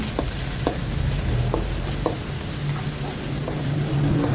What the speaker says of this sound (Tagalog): At igisa lang natin yung ating sibuyas.